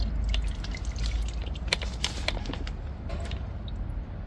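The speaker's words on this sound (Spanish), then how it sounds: "Ya está goteando, eso quiere decir que no hay nada." Coolant drips and trickles from the thermostat housing of a Volkswagen T4 during a thermostat replacement, a close series of small irregular plinks over steady workshop background noise.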